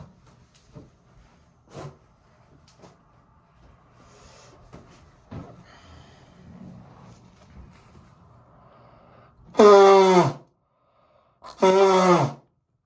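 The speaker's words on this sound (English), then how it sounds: "I just blew my nose" Two loud, brief nose blows, the second after a short pause, follow a stretch of quiet background noise and faint rustling.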